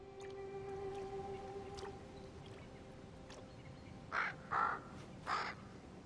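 Three harsh caws from a crow ring out in quick succession near the end, after a quiet stretch with a faint tonal hum, in the Carpathian mountains.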